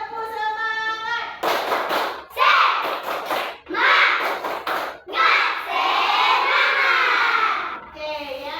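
A classroom group performs the tepuk semangat chant, with rhythmic clapping under loud, excited children's voices chanting in bursts, with a few thumps and shouts along the way.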